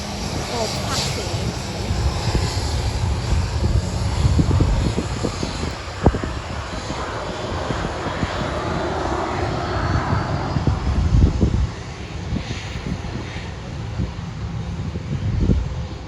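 A fixed-wing airplane at Sydney airport taxis and takes off, its engine roar rising and swelling steadily, moderately distant, as people talk nearby.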